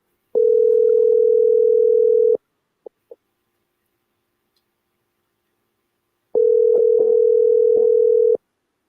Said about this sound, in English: Let me try calling.